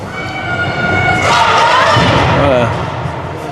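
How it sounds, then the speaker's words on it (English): A crowd of spectators cheers loudly throughout a U19 AA ringette game between Kitchener and London, with a dense roar of many voices swelling in the middle, shouts rising over it and a sharp thud near the start. "A ton of cheering on our side here."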